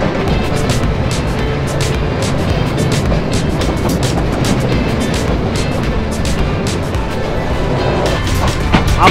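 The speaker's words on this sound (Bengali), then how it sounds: "ট্রেন কিন্তু স্লো হয়ে যাচ্ছে" A train running and slowing near Abdulpur junction, a loud, continuous rumble with rhythmic clatter from the rails throughout.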